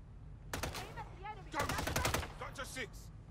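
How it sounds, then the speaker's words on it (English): Video game gunfire, probably a Call of Duty match, comes in several rapid automatic bursts with brief gaps, mixed with in-game effects and clatter. "Stop shooting your teammate."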